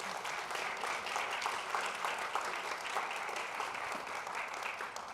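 An audience claps steadily and warmly to welcome a panel of speakers at a legal event, a dense, even wash of applause throughout.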